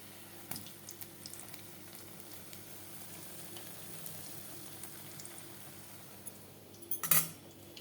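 Battered eggplant fritters (beguni) frying in hot oil, a soft steady sizzle running quietly throughout, with a sharper clatter of utensils near the end.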